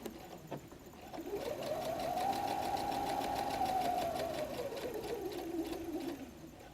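A sewing machine runs a seam on a messenger bag, its motor whirring steadily as it ramps up, holds a long even run, then slows, heard close and on its own.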